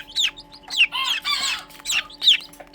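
Tiny pheasant-chicken and serama chicks peep and cheep in short bursts while feeding, with soft pecking and scratching close by.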